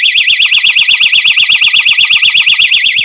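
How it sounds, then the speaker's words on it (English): A portable door wedge alarm on its low setting, sounding a loud, piercing, rapidly warbling electronic siren that pulses steadily throughout, close and unbroken, with no talk over it. "you barely need to touch this thing at all before the alarm sounds"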